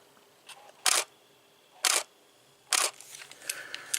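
Canon 6D Mark I shutter firing three times at roughly one-second intervals, each a soft, muffled, close mechanical clack with faint handling noises between them in a quiet room.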